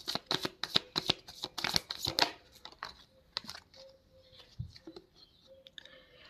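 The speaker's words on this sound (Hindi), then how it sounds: "बाकी और कार्ड्स निकालती हूँ मैं। मुझे कुछ और कार्ड्स भी दीजिए।" Tarot cards riffled and shuffled in a rapid crackling burst, then a few softer slides and flicks as single cards are drawn and laid down, close and fairly quiet.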